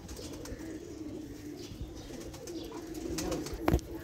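Young pigeons, a cross of Teddy and Chinese breeds, coo softly and steadily at close range, with a brief fluttering burst near the end and no talking.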